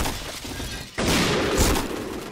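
A loud, close shotgun blast from an online shooter game bursts in suddenly, followed by a sustained crashing roar, after a quieter stretch of background game noise.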